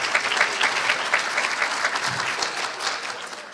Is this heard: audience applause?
yes